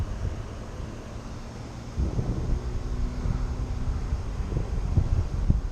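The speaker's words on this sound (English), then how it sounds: "the wind is blowing like fucking crazy" Strong wind blowing outdoors at a building site, a steady rushing roar with microphone buffeting that grows louder partway through, with a faint low hum running underneath.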